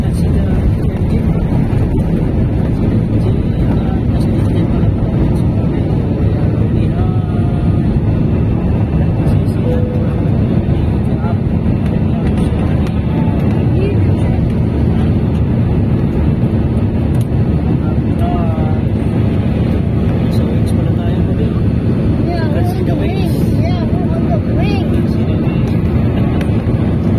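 A passenger airplane in flight gives a loud, unbroken cabin roar of engine and airflow noise, steady throughout, with faint voices occasionally audible beneath it.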